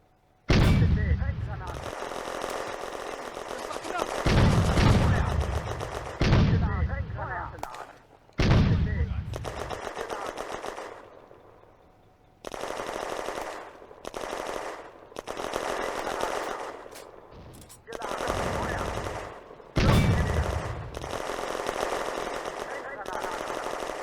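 Heavy machine gun fire in the WWII Eastern Front game Firefight, loud bursts of automatic fire repeating in several long rattling strings with short pauses between, close and dominant throughout.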